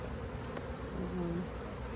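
Honeybees hum steadily around an open hive during an inspection, a continuous low drone of many wings close by, with a faint higher tone drifting in midway and no voices.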